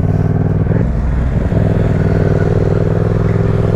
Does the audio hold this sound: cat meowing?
no